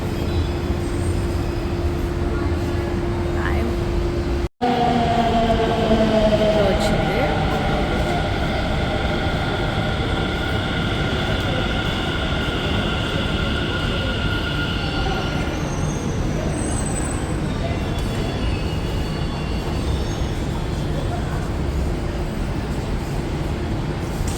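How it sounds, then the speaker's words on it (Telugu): A Delhi Metro train rumbles steadily along the track, its wheels squealing in long high whines that fade after a sharp click early on. "ఇప్పుడైతే మెట్రో ఎక్కుతున్నాము"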